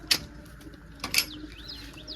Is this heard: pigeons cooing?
yes